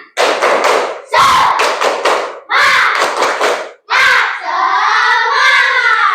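A group claps in a quick rhythmic pattern, several bursts of sharp claps, then ends with a loud sustained group shout or cheer.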